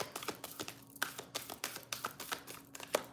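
A deck of oracle cards is shuffled by hand, producing quick bursts of papery riffling and tapping in uneven clusters, close and fairly quiet, with no voices during the shuffle.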